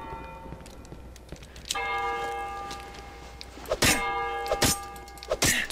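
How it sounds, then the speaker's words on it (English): Tower bell in the horror game Cry of Fear tolls several distinct clangs with long ringing tails over faint ambient noise, fairly distant. "Ding. I don't see any bell tower."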